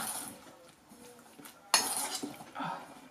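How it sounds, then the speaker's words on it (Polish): A spoon stirs a yeast batter of flour and kisiel in a bowl. Soft scraping gives way to one sharp clink of metal on the bowl and a few lighter taps, all quiet and close. "Mieszamy, aż zniknie mąka."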